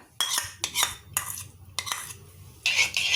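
Cream is stirred in a pan for a chocolate ganache, with rhythmic bursts of a spoon scraping and swishing around the pan, loud and close, separated by brief pauses.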